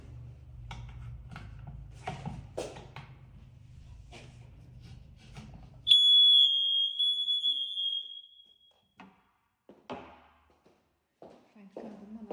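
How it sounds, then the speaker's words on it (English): A smoke alarm in an entry hall gives a loud, piercing high-pitched beep lasting about two seconds during a test, amid brief handling taps; a person talks before and after it. "to test the smoke alarms"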